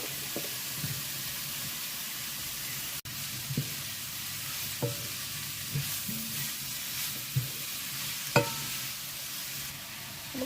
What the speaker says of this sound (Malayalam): അപ്പോൾ അതിനാവശ്യമായ സവോള ആഡ് ചെയ്യാം